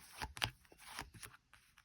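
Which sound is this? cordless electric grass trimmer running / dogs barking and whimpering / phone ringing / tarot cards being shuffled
tarot cards being shuffled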